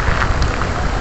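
Steady rain pattering outdoors on the shore near rocks where a giant clam shell lies, a dense close wash of drops filling the whole moment without any voices.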